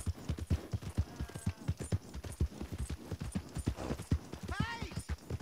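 Steady clip-clop of horse hooves trotting close by in Red Dead Redemption 2, with a brief horse whinny near the end and some game ambient noise.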